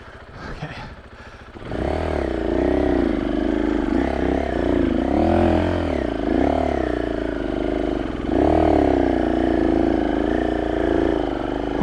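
KTM 500 EXC-F dirt bike climbing a trail at Rowher Flats, engine loud and close, with a short quiet start and then steady revving that rises and falls as the clutch slips on the climb.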